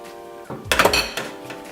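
Cooked pasta sauce tipped into a bowl at home, with a short burst of clattering dishes and scraping utensils, close and fairly loud, over a quiet kitchen background.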